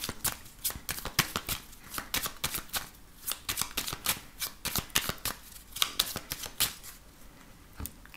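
A 32-card deck is shuffled for a fortune-telling card reading. Dense, crisp riffling and slapping of cards runs continuously and close, with no talking.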